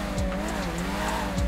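A Mercedes-AMG One hybrid supercar in GTA 5 revs hard with screeching tires and a rising engine note, braking with popping backfire over a short burst.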